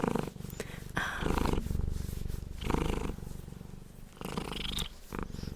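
A cat purring close to the microphone, a loud rhythmic rumble rising and falling with each breath in several long cycles, heard alone with no talking.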